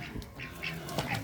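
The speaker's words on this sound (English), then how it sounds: "And of course we got the quacking in here." Ducks quack repeatedly at close range on a farm during feeding time, short nasal calls overlapping one another against a steady outdoor background.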